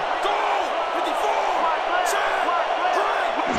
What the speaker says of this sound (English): Crowd getting a little louder here.